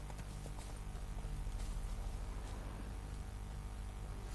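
Horse hooves in the video game The Witcher 3, a quiet steady clip-clop of several hoofbeats in a walking rhythm beneath a low background hum.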